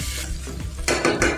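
A spoon scrapes and clinks against a pot while fried soya chunks are stirred for soya chunks biryani, giving a few close, quick metallic scrapes with soft sizzling underneath.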